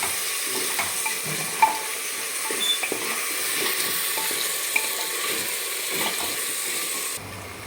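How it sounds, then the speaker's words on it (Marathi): Tomatoes and potatoes fry in a pan with a continuous sizzling hiss, broken by scattered spoon scrapes and taps as they are mixed, with no talking over it. "तर हे फ्राय झालेले आहे टोमॅटो पण"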